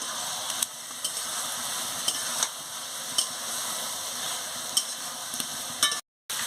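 Turnip and soybean curry being stir-fried after coriander leaves go in, a steady close sizzle punctuated by regular spatula scrapes roughly every half second, ending in a brief cut to silence.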